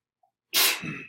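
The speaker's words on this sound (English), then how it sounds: "Bless you." A single sharp human sneeze in a classroom bursts out loud after near silence, then trails off with a breathy tail.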